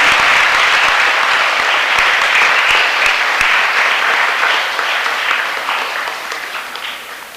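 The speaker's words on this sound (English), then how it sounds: "A big applause and welcome" Loud, dense applause from a school function audience welcoming the chief guest, sustained and steady for several seconds before gradually thinning toward the end.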